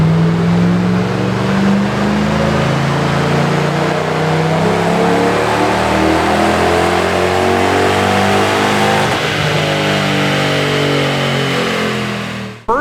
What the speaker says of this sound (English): First dyno pull with the C43, and Tavarish